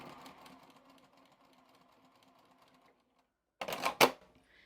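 A sewing machine stitches a decorative edge on fabric, a soft quick mechanical whirr for a few seconds, then a pause and two louder sharp clacking bursts close by.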